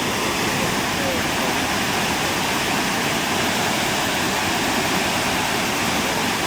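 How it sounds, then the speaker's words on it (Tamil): River water rushes between rocks in a gorge in New Zealand, a loud, steady roar of churning water that continues without a break. "இந்த தண்ணி பூந்து அப்படியே அங்கே பாறைகளுக்கு இடையில் பூந்து போகுங்க தண்ணி"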